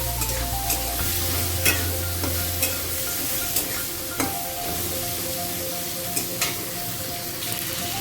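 Potatoes and tomato sautéing with salt in a pan while being stirred for a Bengali vegetarian chhanar dalna, a steady close sizzle broken by repeated scraping strokes of the spoon throughout.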